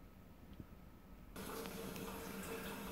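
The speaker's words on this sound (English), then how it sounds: "Okay, I went and turned the faucet on." A faucet is switched on partway through, drawing cold Wisconsin groundwater; after a quiet start, a steady, close hiss of running water fills the rest of the clip.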